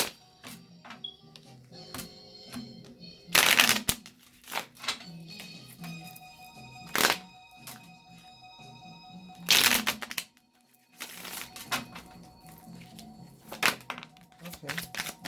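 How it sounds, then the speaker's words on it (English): A deck of cards is shuffled during a card reading, with several loud riffling bursts separated by quieter handling clicks and taps, and a person speaking in between. "Already shuffled, so of course we're gonna shuffle again."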